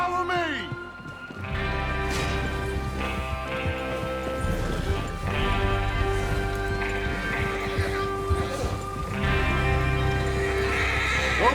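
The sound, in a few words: horses neighing in Red Dead Redemption 2 video game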